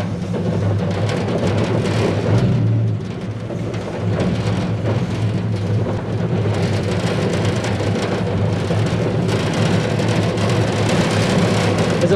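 A 1UZ VVTi V8 engine in a 4x4 offroad buggy idles roughly, producing a loud, continuous low rumble with uneven pulsing and no voices over it.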